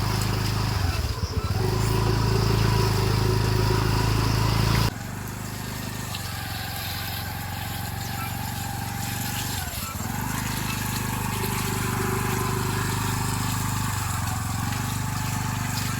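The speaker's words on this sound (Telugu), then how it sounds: "మన స్కూటీ అక్క డ్రైవ్ చేసేస్తుందండి నన్ను కూడా ఎక్కించుకొని" A scooter engine drones steadily while riding a rough, unpaved track between fields and ponds, the hum loud and close with bumps and a brief dip in tone partway through.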